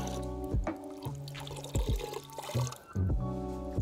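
A car-wash sponge soaked in rinseless wash solution drips and trickles beside a 2017 Audi A4 Quattro, giving a few short, close liquid splashes and pours in irregular bursts, with no talking.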